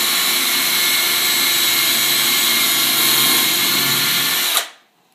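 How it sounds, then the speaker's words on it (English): A power drill bores a pilot hole into a 2x4 for a beehive stand, a loud, steady high whine that holds for about four and a half seconds before cutting off and spinning down to silence. "try to put the drill bit in the center of this 2x4"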